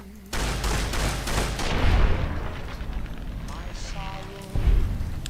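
Shotgun blasts from Dragon Breath incendiary shells in Cyberpunk 2077, a loud burst of booming shots with fiery crackle, fading to a quieter stretch before another heavy blast near the end, with a voice talking over it.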